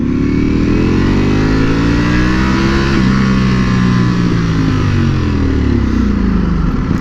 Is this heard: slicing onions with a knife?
no